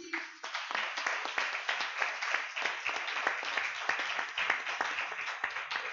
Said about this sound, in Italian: Vi chiedo un applauso per Andrea Renzi